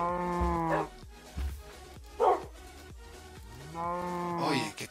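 Cows in a video game let out several long, close moos one after another, separated by short gaps and light clicks of game noise.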